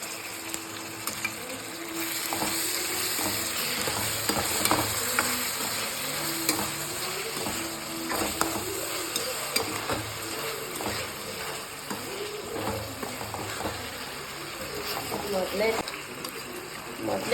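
Tomato being stirred into a frying pan while cooking vangibath with brinjal, giving steady sizzling with scraping stirs throughout, with a voice talking over the cooking.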